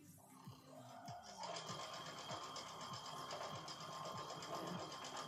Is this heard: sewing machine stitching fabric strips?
yes